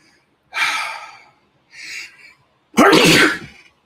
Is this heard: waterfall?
no